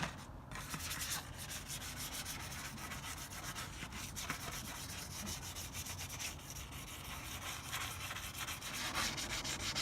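Steady, close rubbing and scuffing of 320 grit sandpaper across a car wheel being prepped for paint. The strokes repeat evenly and softly for about ten seconds, with no voices.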